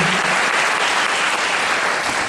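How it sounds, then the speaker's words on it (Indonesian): A church congregation applauding at a Sunday service, a dense, steady burst of many hands clapping that fills the whole moment with no talk over it. "Berikan tepuk tangan bagi firman Tuhan."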